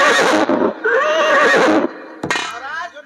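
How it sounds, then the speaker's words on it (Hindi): A horse lets out a loud, close whinny in a folk theatre performance, with several long quavering neighs and a clip-clop in between, all set against busy stage sound. "विजय पाठक, मैकुलाल, घोड़ा तैयार किया जाए।"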